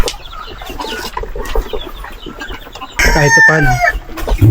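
Chickens on a small farm cluck and call close by while pecking at feed, with a brief spoken phrase early on and the birds growing louder and more steady in the last second and a half.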